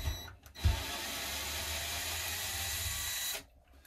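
A Ryobi power drill backs a screw out of a guitar, a brief start and then a steady close whir lasting a few seconds before it stops.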